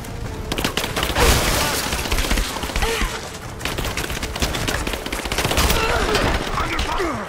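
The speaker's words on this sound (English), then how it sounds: "Laying down covering fire." Sustained gunfire and bursts of automatic fire in a firefight in Rise of the Tomb Raider, with dense, overlapping shots and thuds running loudly throughout, some faint voices mixed under the shooting.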